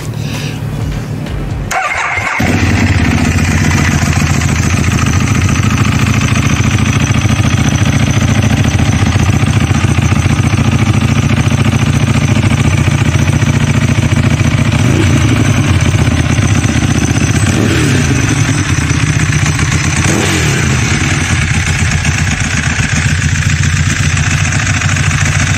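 A motorcycle engine, started with a gear engaged, runs steadily and loudly close by, a constant mid-pitched drone that holds through the whole stretch after a brief start at the beginning.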